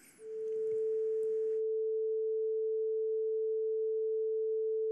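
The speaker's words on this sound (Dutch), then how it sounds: "Laten we even luisteren opnieuw naar een sinusgolf van 440 hertz," A pure 440 Hz sine tone played 6 dB quieter, a steady unbroken beep that starts after a short burst of faint noise and holds evenly to the end.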